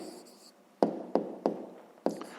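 Pen writing an answer on paper for a fifth-grade math exercise, a few sharp taps and short strokes in quick succession, close-up, over faint background hiss.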